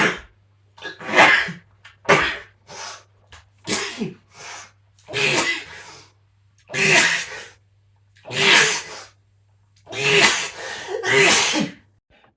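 A man sneezes again and again in a long fit, roughly a dozen sharp, loud bursts spaced by short pauses with quick breaths between, close to the listener and with no other sound around them.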